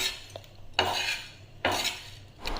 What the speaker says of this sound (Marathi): धणे भाजून घेते आता मस्त धना पावडर करायला.